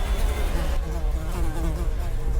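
A swarm of fruit flies buzzes in a ship's kitchen, a continuous close droning hum that fills the whole stretch without pause.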